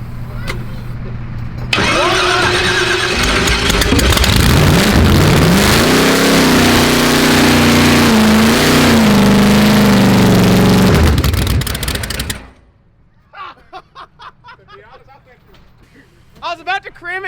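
A ProCharged LS V8 engine cranks and fires, then roars at high volume with a rising, whining supercharged rev that holds for about ten seconds. The engine cuts off abruptly, and afterward people talk nearby over a quieter background.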